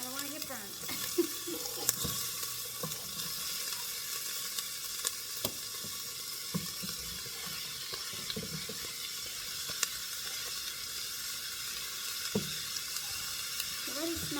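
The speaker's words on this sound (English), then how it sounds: "So it's gonna sizzle here." Onions sizzle in a smoking hot pan, a steady bright hiss of frying that runs continuously with small crackles and occasional stirring scrapes, close by.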